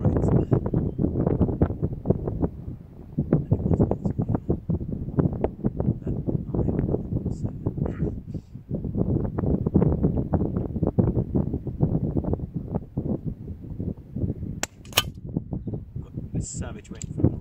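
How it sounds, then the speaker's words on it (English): Strong gusting wind buffets the microphone at an outdoor shooting range, a loud continuous low rumble with surging gusts, plus a couple of faint metallic clinks near the end. "Savage wind from the right coming in."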